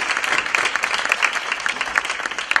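Brisk, loud applause from the audience at a university plenary session, dense overlapping claps with sharp individual hits, continuous across the whole stretch.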